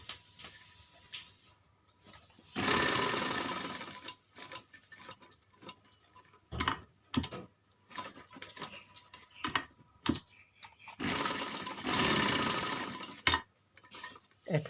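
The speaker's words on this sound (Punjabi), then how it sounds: "ਇਹ ਸਿਲਾਈ ਇੱਥੋਂ ਸ਼ੁਰੂ ਹੋਏਗੀ।" Domestic sewing machine stitching a seam on a child's kalidar kurta, running in two bursts of a few seconds each, separated by handling clicks and fabric rustles, with no talk.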